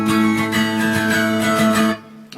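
Guitar playing the riff, with a steady strummed rhythm that runs for about two seconds before cutting off abruptly.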